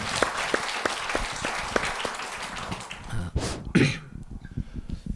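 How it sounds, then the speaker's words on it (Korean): Audience applause at a Buddhist lecture hall gathering, a dense steady patter of clapping filling the room with a few louder bursts and a cough or throat clearing near the end. "박수 한번 시작 치세요."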